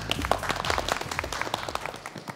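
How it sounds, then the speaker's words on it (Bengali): Audience claps for participants in a beauty makeover reality show, with distinct hand claps forming a lively, uneven round of applause that keeps going at a moderate level. "সবাই সবার জন্য একটা জোরে হাততালি দেই"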